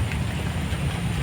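Steady rain falls in a garden, a dense, even hiss of drops with no gaps, close and fairly loud.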